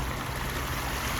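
Water pours steadily off a dirt track into a roadside ditch, making a continuous, dense rushing wash close to the microphone.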